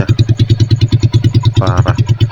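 Loud, close idle of a rebuilt Honda GL Max Neotec motorcycle engine fitted with only half an exhaust, a steady rapid chugging pulse with a short burst of a voice over it near the end.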